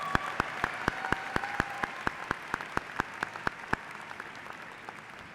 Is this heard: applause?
yes